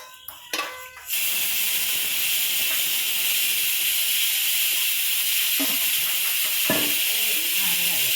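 Oil heating in a small pan for tempering dal gives a steady close hiss and sizzle across the clip, after a brief burst of clatter at the start.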